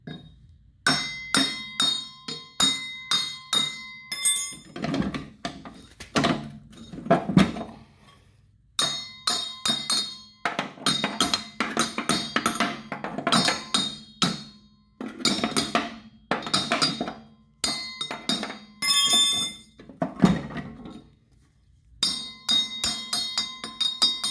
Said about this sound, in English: take any kind of like a wrench or a hammer or a mini crowbar and just beat around the edge of it